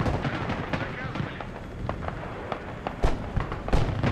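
Bomb blasts and gunfire in the PC war strategy game Broken Arrow, during a 5v5 match, with scattered booming explosions and crackling bursts throughout and two louder hits near the end, heard under a player's voice.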